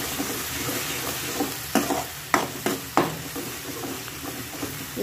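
Masala frying with browned tomatoes in a pan for butter paneer masala, a steady sizzle broken by several sharp scraping stirs of a spoon against the pan, close and fairly loud.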